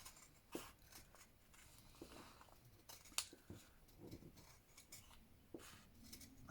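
Scissors snip through fabric while cutting out a woven chickadee piece for a stitched advent project, giving sparse, quiet close cuts and small rustles with no talking.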